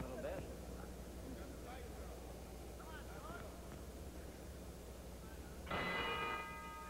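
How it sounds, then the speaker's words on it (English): A boxing bell clangs once near the end to close round two of a 1963 professional bout, its ringing tone standing out briefly over a steady arena crowd murmur. "Bell ends round two"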